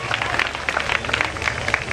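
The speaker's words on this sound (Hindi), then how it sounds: "जोरदार तालियां इसके लिए।" At a Balaji Jayanti celebration in Deoband, a crowd claps briskly in a dense, even burst of applause for about two seconds.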